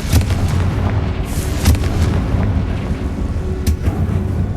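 The Confringo blasting spell explodes in Hogwarts Legacy as a loud, continuous rumbling barrage with several sharp cracks and booms layered over it.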